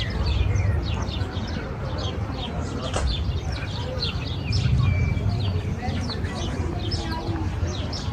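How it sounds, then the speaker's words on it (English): Small birds chirp and tweet repeatedly in the background of a European bear park while people talk nearby over outdoor ambience. "The birds are chirping."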